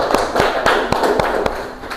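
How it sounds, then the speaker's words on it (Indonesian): Classroom applause during an Arabic language lesson in an Indonesian school, a few hands clapping in a loose rhythmic beat, fairly close and moderately loud, with faint background murmur. "Kita berikan tepuk tangan."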